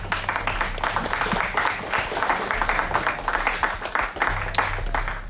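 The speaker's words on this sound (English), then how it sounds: "he needs your applause and praise" Applause from the audience at a StarCraft WCS Blizzard European Qualifier final esports event, dense steady clapping filling the whole stretch at a fairly even level, with a faint murmur of voices mixed in.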